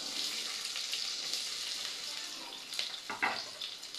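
Onion sizzles in hot oil in a pan, a faint, steady hiss close by with a few soft clicks and a scrape near the end, no voices.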